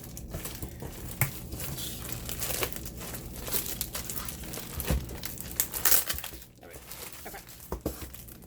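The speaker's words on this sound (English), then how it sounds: "I always hate that I can't reuse the bags because I usually have to rip them to get the tape undone" Plastic packaging bags are torn and ripped open, with taped seals pulled apart, making close, busy crinkling, crackling and tearing sounds throughout, with no speech.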